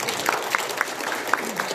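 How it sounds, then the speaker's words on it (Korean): An audience at a book launch for an edition of Heo Jun's Donguibogam gives a short burst of clapping. Several distinct sharp claps stand out over a room-filling patter. "박수 한번 해주십시오"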